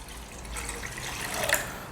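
Water poured from a glass into a pot to make steam for chicken momos, a steady, faint splashing trickle that swells briefly near the end, with no voices.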